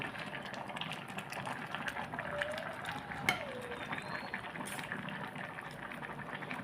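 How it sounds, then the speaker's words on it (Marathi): Carrot halwa cooking in milk in an open pan on a full gas flame gives a faint, steady bubbling and simmering hiss with one sharp tap partway through. "फुल गॅसवर असं चांगलं शिजवून घ्यायचं त्याला हलवाना दूध आटेपर्यंत शिजवून घ्यायचं आहे"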